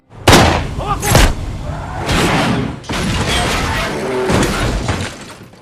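A cartel car crashes and rolls over after its driver is shot: loud booming impacts, crunching metal and shattering glass in a dense, chaotic burst that carries on for several seconds.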